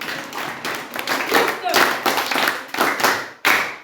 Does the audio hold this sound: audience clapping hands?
yes